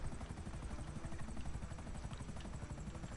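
A helicopter in the GTA video game thrums with a steady, continuous rotor chop, even and unbroken throughout at moderate game volume.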